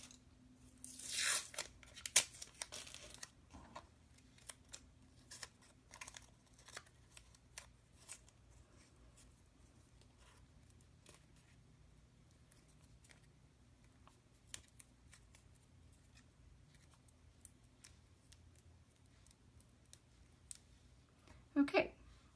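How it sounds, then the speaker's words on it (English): Tape is torn in bursts and wrapped around a small figure, with loud ripping near the start, then quieter scattered crinkles and clicks, and another tear at the end. "I'm gonna wrap this with tape as well."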